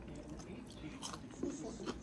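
Faint, close crunching bites into a battered, deep-fried catfish nugget dipped in homemade tartar sauce, with a few soft crisp crackles and moist chewing over a quiet background.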